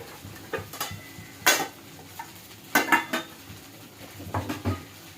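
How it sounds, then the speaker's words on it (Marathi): Poha and salt are stirred in a pan, with a spoon scraping and clinking against the metal in several distinct bursts over a faint background hiss. No one speaks. "तर इथं मी चवीपुरतं मीठ घातलेलं आहे आणि पुन्हा एकदा व्यवस्थित मिक्स करून घ्यायचं आहे."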